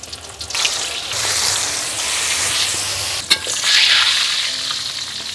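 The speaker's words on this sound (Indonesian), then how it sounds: "Nah, minyaknya sudah panas, langsung kita goreng." Flour-coated wader fish dropped into hot oil, a loud, steady crackling sizzle close by that swells after a brief clatter, continuous frying with no talk.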